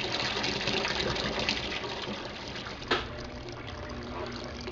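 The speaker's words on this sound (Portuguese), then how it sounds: "E agora começou a drenagem da água do amaciante." A washing machine drains its fabric softener rinse water: steady rushing water drains continuously, a broad even gush with a small clunk partway through, close and moderately loud.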